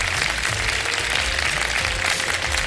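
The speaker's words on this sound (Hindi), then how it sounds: "जरा तालियां वालियां बजाएं" Dense, steady applause from a studio audience at a televised Iftar show, a continuous wash of many hands clapping without pause.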